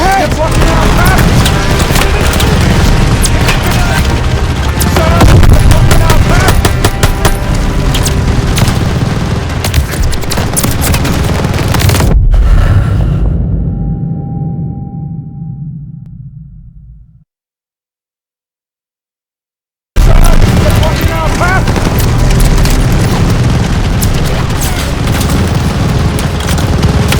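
Machine gun fire and explosions fill the Call of Duty Vanguard battle, with dense, continuous bursts of automatic gunfire and heavy booms over a loud combat din. The noise cuts to a fading tail, falls silent for several seconds, then resumes abruptly.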